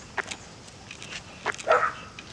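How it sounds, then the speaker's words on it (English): A Sheltie lets out a few short, sharp barks and yips outdoors, moderately distant, with brief gaps between them and a quiet background. "Oh, it's a dog."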